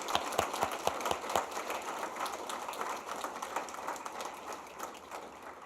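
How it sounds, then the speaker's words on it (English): An audience at a seniors' awards ceremony claps for the award recipients. Distinct hand claps start things off and then merge into a soft, continuous patter of applause heard from a distance. "can we just give an incredible warm round of applause to all the recipients here today"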